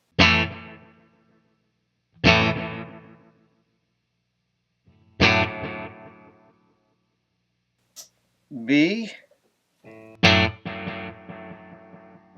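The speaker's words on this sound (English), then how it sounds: "You hear several different delays jumping in." Electric guitar notes run through a multi-head delay pedal ring out one after another, each struck chord trailing into distorted, overlapping repeats that fade away; a voice briefly speaks a single word between phrases.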